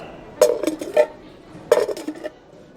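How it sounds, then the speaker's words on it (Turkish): Camping cookware set with plates, metal pieces clinking and clattering together in two short bursts of rattling knocks, close and fairly loud, with no talk. "2-3 tane tabakları var içinde."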